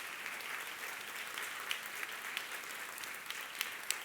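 Applause from the audience at a general meeting plenary session, honoring the meeting staff: a steady, fairly distant wash of many hands clapping, faint and even throughout with a few sharper claps standing out.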